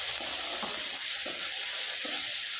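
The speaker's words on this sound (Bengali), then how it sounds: "এখন আমি স্বাদ মতো লবণ, হলুদ আর কিছুটা গুঁড়ো মশলা ব্যবহার করব আর খুব ভালোভাবে নেড়ে চেড়ে নিব" Spices fry in a pan, giving a steady, bright sizzle throughout. Faint scraping strokes from stirring come at intervals underneath, with no voices.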